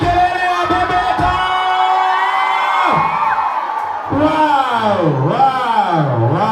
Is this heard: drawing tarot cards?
no